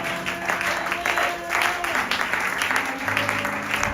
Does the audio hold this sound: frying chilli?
no